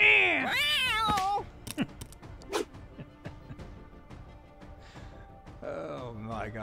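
Cartoonish cat meows from the video game Guild of Dungeoneering: a few bright, close meows at the start and end with short sharp game effects between, while a voice talks.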